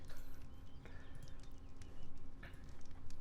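Horse hooves clip-clop in the online game Wurm Online, a steady walking rhythm at moderate distance with light ambient sounds around it.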